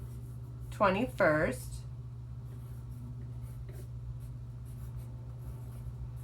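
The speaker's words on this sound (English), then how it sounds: "And maybe I'll even write the date" Pen writing a date on paper, quiet scratchy strokes following a brief spoken word, over a steady low hum in a room.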